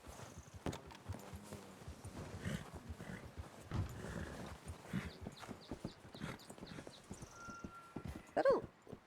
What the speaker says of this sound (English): There's a horse in here.